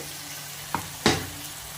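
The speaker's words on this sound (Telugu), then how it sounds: "మిక్స్ చేసుకున్నాక ఈ ఆనియన్స్ని కూడా ఈ కాగే ఆయిల్లో వేసేసుకోవాలి." Blended onion paste goes into hot oil for a chicken curry, with a faint steady sizzle under two sharp splattering bursts as it hits the pan and is stirred.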